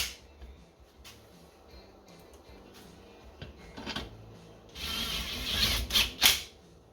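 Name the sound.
ratchet snugging down bolts on Briggs and Stratton flathead engine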